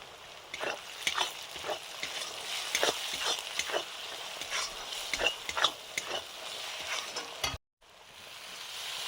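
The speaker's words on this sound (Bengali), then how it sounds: "জল দিয়ে মশলাটা কষে নিচ্ছি।" Spice mix of turmeric, hot chili powder and Kashmiri chili powder sizzling with a splash of water in a pan, stirred with repeated scraping strokes over steady frying hiss, then a brief cut to silence near the end.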